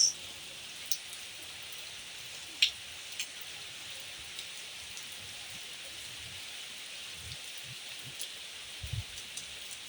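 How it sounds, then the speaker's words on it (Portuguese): Afternoon rain drips from roof gutters at a rural homestead in Brazil's backcountry, a faint steady patter with occasional louder single drops standing out. "Pingando nas biqueiras."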